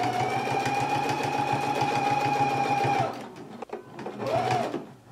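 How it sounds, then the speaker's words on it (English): A sewing machine stitches a garment facing at a narrow seam allowance, running steadily and loudly for about three seconds, then stopping briefly before a second short burst of stitching. "So let's go ahead and sew on our facing now."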